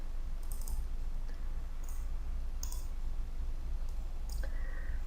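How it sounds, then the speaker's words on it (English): A computer mouse clicks a few times, faint sharp ticks spaced irregularly over a steady low background hum, with no talking. "Then I need to click the login link."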